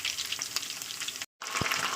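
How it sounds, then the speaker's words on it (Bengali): Chicken pieces fry in hot oil in a kadai, a close, bright sizzle with a stirring scrape, briefly cut off by a moment of silence before the crackling resumes. "দিয়ে আমি ভালো করে একটু তেলের উপর ভাজা ভাজা করে দেবো।"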